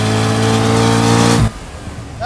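A Corvette Z06 engine revs hard at close range, a loud harmonic roar climbing steadily in pitch before cutting off abruptly, leaving a quieter rumble and faint background noise.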